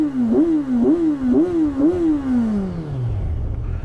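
A Kawasaki Ninja motorcycle with stock exhaust revs close by in four quick blips, each rising and falling, then its engine note sinks down toward a low idle rumble.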